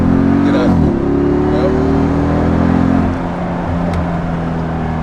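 A Dodge Charger 392 with a V8 engine rumbles loud and close, its revs rising and falling through a downshift, then settles to a lower idle-like drone, with people talking over it.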